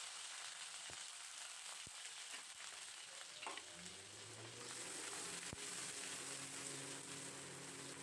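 Dried chili and mustard seeds hit hot mustard oil, giving a constant close hiss with scattered pops and crackles that thicken partway through.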